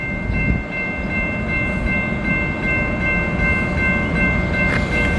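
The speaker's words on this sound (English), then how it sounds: "we for sure have a southbound train" A southbound Union Pacific train rolls steadily past a crossing, its heavy continuous rumble close and loud, with a sustained tonal hum overhead and a brief hiss near the end.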